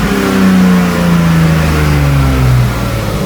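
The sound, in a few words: BMW E30 engine revving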